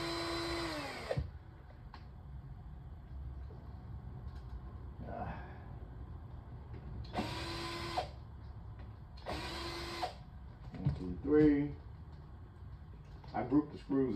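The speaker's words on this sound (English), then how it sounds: "Take these screws out." Screws are backed out of the rear cover of an LG 55LF6000-UB LED TV, with a few short whirring bursts of a driver spaced several seconds apart and someone talking in between.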